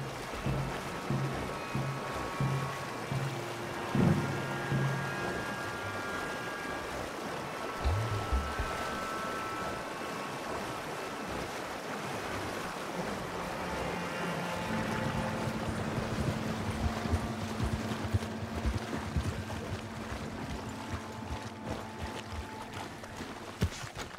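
Continuous splashing and sloshing of water as horses wade through it in the video game Red Dead Redemption 2, with shifting tones and background game sounds layered throughout.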